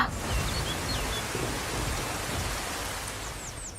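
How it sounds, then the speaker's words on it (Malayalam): Rain falls steadily in a broad hiss, with faint chirps of birds high above it. "നീ മഴ നനയണ്ട, കേറിക്കോ."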